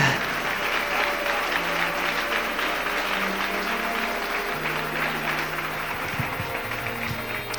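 A church congregation applauds during a Spanish-language sermon, steady dense clapping that holds evenly throughout with a faint hum and some low tones underneath.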